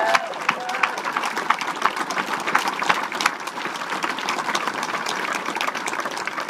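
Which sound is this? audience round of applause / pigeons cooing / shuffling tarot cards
audience round of applause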